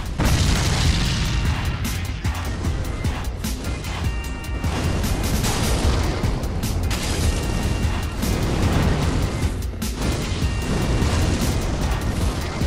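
Fire attacks bursting one after another in Dark Souls 3, a dense, loud roar of booming explosions and crackling blasts that hardly lets up, with rhythmic swells, no talking.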